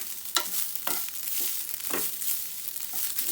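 Grated coconut roasts and is stirred in a hot pan for a Malabar banana sweet, giving a steady soft sizzle broken by several scraping strokes of the spoon, close and with no talking.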